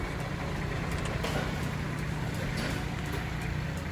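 Kubota L2808 4WD tractor fitted with a front blade and rotary tiller idling, a constant low engine rumble that holds steady throughout and sits close and fairly loud.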